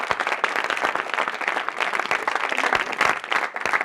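Applause from a drama-stage audience greeting rising performers, steady dense clapping for about four seconds with individual claps standing out, fairly close and loud throughout.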